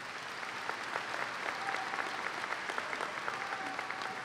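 Steady audience applause fills a graduation ceremony at Colerain High School in 2018, dense clapping from a large crowd held at an even, moderate level throughout with no one speaking.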